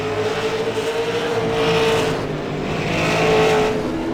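Pro Late Model race cars roaring around Lanier National Speedway, engines droning at high revs with a sustained whine that swells and fades as the pack passes, loud and continuous.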